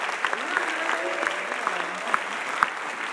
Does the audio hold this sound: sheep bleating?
no